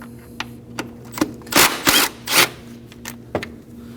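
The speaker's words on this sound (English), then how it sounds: "Using a 10mm socket, go ahead and take it out." A 10mm socket on a ratchet backing out a bolt on a 2011-2016 Kia Optima engine: sharp close clicks at a steady pace, with three louder bursts of ratcheting in the middle.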